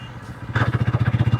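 A Bajaj Pulsar N125 motorcycle rides in top gear, its engine throbbing in a steady, fast pulsing beat that starts soft and then swells louder and closer about halfway through.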